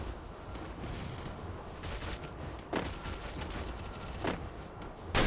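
Gunfire in the mobile battle royale game Garena Free Fire during a ranked match, dense rapid automatic bursts with several louder shots standing out, continuous and close throughout.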